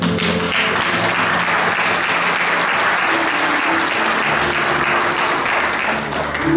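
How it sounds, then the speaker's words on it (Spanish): A church congregation gives a welcome round of applause during an Easter Sunday service, dense continuous clapping with a faint voice underneath. "le da un aplauso de bienvenida"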